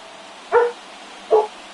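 A dog barks twice, well spaced, at moderate volume over a low steady background hum.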